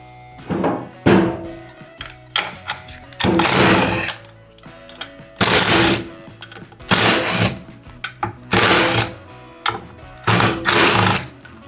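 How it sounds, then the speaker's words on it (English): A screwdriver backs out T27 screws from the spark arrestor cover on an Echo edger, with repeated close bursts of whirring driver noise separated by short pauses and small clicks. "our spark arrestor is right under this little cover here, so we're just gonna remove all these T27 screws."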